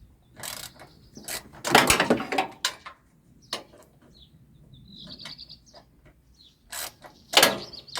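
Ratcheting clicks and metallic turning come in short bursts with pauses while a part is unscrewed during maintenance of a Tecumseh Yard Machines lawn tractor, close by, with faint birdsong in the gaps.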